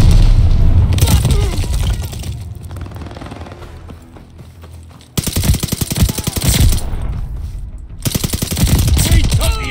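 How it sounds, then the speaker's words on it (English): A sticky bomb is thrown and explodes in a Call of Duty: Vanguard Team Deathmatch on the Radar map, with loud bursts of automatic gunfire and heavy booms crowding the scene, close and continuous, and game voices mixed in. "Throwing a sticky bomb."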